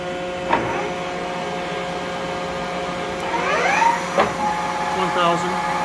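A Union BFT105 boring mill spindle fitted with a test bar runs at 1000 RPM, giving a steady, fairly quiet machine hum and whine while someone talks over it.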